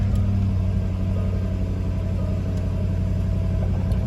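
The engine of a 2013 Jaguar XFR idles with a loud, steady low rumble, close by and continuous throughout.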